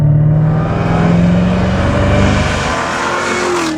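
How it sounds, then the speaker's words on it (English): A 2015 Chevrolet Corvette Z06 with an old-style pushrod 16-valve V8 and direct injection, revving hard under acceleration, a loud close roar with the engine pitch climbing steadily before easing slightly near the end. "Yes, it's an old pushrod 16-valve engine, but it does have some leading-edge technology like cylinder deactivation and direct injection. Oh, and it sounds amazing."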